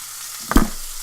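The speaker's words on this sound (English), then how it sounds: "So now I'll just turn my bacon over." Thin bacon sizzles in a frying pan and is flipped over. A steady hiss runs throughout, with one brief scrape and a flare of sizzle as a strip turns, close and fairly loud.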